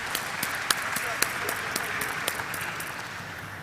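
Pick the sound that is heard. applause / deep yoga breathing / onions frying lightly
applause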